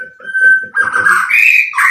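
A young white-rumped shama (murai batu) calls up close, a loud sustained whistle followed by rapid varied chirps and rising warbled notes, clear and unaccompanied by talk.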